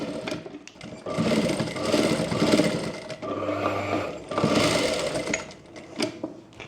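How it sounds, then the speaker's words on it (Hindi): A sewing machine stitches a boat-neck princess-cut blouse, running in loud close bursts with a brief slower pause in the middle before speeding up again. "यहाँ पर इस तरह से तिरछी सिलाई करनी है"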